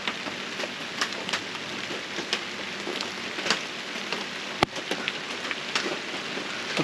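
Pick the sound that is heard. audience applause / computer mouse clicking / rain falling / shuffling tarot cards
rain falling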